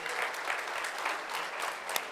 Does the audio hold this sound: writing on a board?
no